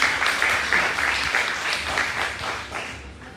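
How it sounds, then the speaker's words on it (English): A roomful of people at a debate competition final claps steadily, the applause holding for a few seconds before gradually thinning out. "So I want to give them a round of applause for doing a good job."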